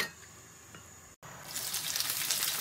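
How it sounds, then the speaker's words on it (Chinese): Scallion, ginger and garlic hit a hot wok, starting as a quiet faint hiss and, after a brief silent gap, flaring into a loud, bright sizzle that holds steady to the end. "葱姜蒜爆香"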